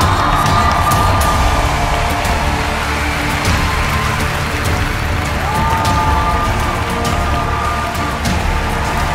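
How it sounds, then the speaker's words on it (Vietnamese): A studio audience at a Vietnamese TV show applauds and cheers to welcome judge Mỹ Tâm, a dense, loud, continuous wash of clapping that holds steady throughout. "Hãy cùng dành một tràng pháo tay chào đón giám khảo Mỹ Tâm."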